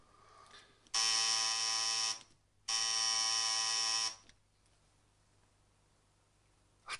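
A doorbell buzzes twice in a German radio drama, two loud, harsh, steady buzzes of about a second each separated by a short gap, followed by quiet room tone.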